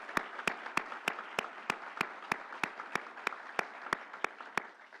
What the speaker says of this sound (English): Let's give our governor a big round of applause.